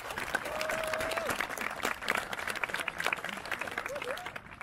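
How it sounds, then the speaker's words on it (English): A crowd at an outdoor geocaching community event bursts into sustained applause, dense clapping lasting several seconds with a few voices and whistles mixed in. "how about a round of applause for everybody who's giving something to this"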